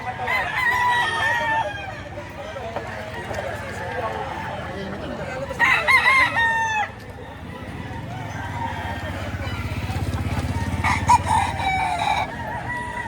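A rooster crows several times nearby at a chicken market in Lipa, Batangas, loud harsh calls at the start, middle and end, with clucking and muffled talk between.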